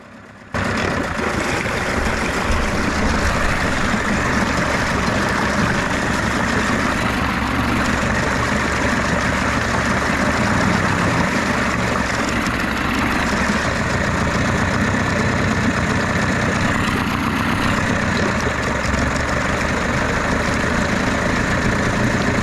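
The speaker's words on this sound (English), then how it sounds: "we're just going to let this engine run for a little bit and just see how it goes" A Mercury 25 outboard motor that had sat unused for years idles steadily and continuously at close range, a constant low engine drone with mild knocking vibration and no talking over it.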